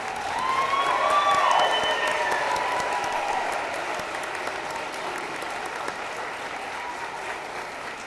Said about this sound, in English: I'd like to just do another big round of applause for these guys